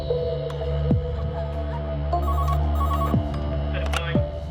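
A telephone rings in repeated electronic bursts over a steady low hum, the rings evenly spaced and moderately loud.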